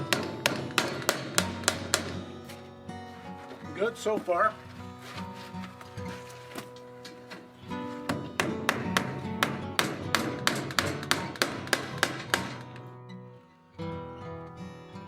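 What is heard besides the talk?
square nails hammered into a wooden door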